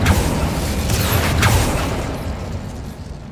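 Spells cast in Hogwarts Legacy, a dense layered rush of magical whooshes, bursts and low booms filling the whole stretch, loud and continuous before easing slightly toward the end.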